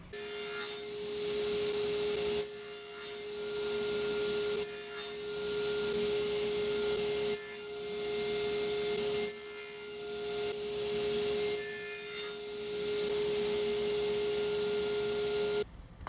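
Hardwood maple pieces are cut in a series of rasping strokes, about seven bursts separated by short pauses, over a steady background hum.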